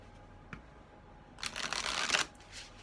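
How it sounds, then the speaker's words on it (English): A deck of tarot cards is shuffled in a short, soft riffling burst after a tiny tap, quiet and close, with no talking. "Cards are being demanding for extra shuffling tonight for some reason."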